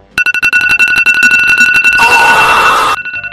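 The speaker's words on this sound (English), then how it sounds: "That's like one of the chillest alarms" An alarm in the Toilet Tower Defense video game: a loud, rapid run of repeated electronic beeping tones, joined midway by a noisy burst that cuts out before the end.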